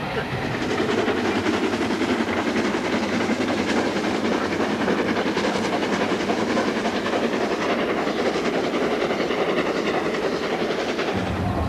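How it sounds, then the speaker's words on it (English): The Flying Scotsman steam locomotive hauling a train, heard as a loud, continuous rushing roar with steady rail clatter and hiss from on board, unbroken throughout and without voices. "it's travelling behind steam, Flying Scotsman, reliving the age of steam of yesteryear"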